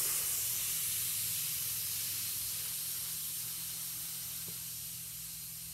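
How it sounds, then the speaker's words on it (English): Air hisses steadily out of a bicycle inner tube as the valve stem tip is held down, a soft continuous airy spray close by that slowly weakens over several seconds, with no voices. "We're gonna let all the air out."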